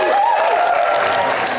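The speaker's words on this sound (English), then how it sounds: "Can we just give them a little clap?" Wedding guests at a reception clap together in a steady round of applause, fairly loud and close, with voices and cheering mixed in throughout.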